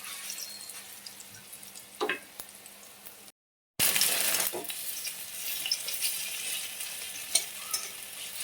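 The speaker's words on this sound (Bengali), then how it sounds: "তেল গরম হয়ে গেছে, এবার বড়াগুলো দিয়ে দিচ্ছি।" Prawn head fritters fry in hot oil, a continuous close sizzle and crackle with a brief gap partway through, followed by a louder burst of spitting and popping that keeps going steadily.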